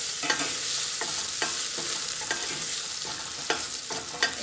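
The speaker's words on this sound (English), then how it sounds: "It takes about 1 minute for the potatoes to cook in this oil" Potatoes frying in olive oil in a pan, with a steady bright sizzle and repeated spatula scrapes and stirs at an uneven pace, close up and with no voices.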